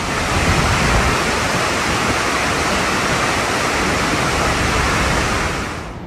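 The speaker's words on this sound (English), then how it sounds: "It is so high and it's gushing so much water." A tall waterfall in Australia gushing heavy water, a loud, close, continuous roar that holds unbroken and fades slightly at the end.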